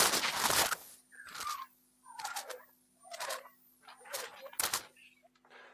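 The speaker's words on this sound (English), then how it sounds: "they were the unexpected sounds that follow a solar storm at geostationary orbit" Sonified satellite measurements from geostationary orbit after a solar storm, a series of about five separate warbling, sweeping bursts spaced roughly a second apart, with a faint steady tone and a slowly wavering high whistle behind them.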